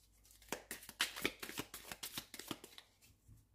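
A deck of oracle cards is shuffled and cut by hand, giving close, quiet riffles and soft slaps in a quick uneven run with no talk.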